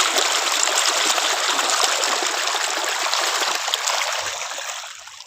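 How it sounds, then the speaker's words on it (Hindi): A strong stream of irrigation water pours into a wheat field, a steady, close rushing and splashing that holds even for several seconds before easing off slightly at the end. "देखिए यहाँ से धार पूरा लगा हुआ है पानी का"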